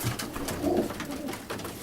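Racing pigeons in a loft with young birds give soft low cooing, a brief murmuring call near the middle over a rustling, noisy background, with no talk.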